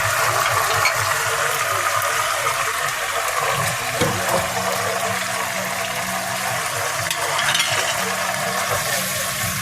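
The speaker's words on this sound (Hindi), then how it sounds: "अब इसी स्टेज पे मैं डाल दूंगी टमाटर।" Tomatoes tipped into a pan of chicken karahi set off a continuous watery bubbling and sizzling that stays loud and close, with a few faint knocks and stirring sounds mixed in.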